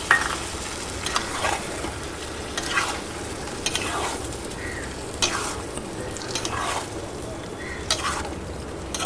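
Poppy seed, cashew and melon seed paste thinned with a little water sizzles in a pan while being stirred, producing a continuous frying hiss broken by periodic scraping strokes, with no talking.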